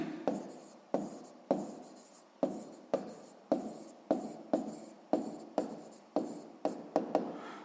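Pen writing on paper during a sixth-grade maths exercise, a close run of short scratchy strokes, about a dozen evenly spaced marks, heard without talk.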